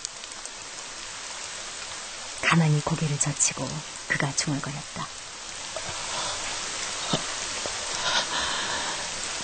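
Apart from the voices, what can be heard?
rain falling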